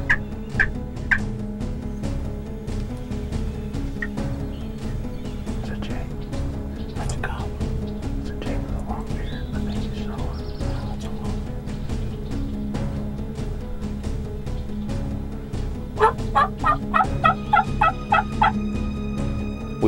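Wild turkey gobblers gobble from a field, rapid rattling calls repeating at a distance, with a louder burst near the end over steady outdoor noise.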